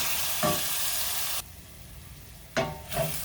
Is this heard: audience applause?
no